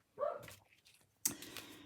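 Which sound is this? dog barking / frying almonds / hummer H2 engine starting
dog barking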